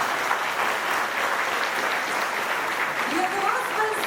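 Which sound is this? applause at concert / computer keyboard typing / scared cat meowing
applause at concert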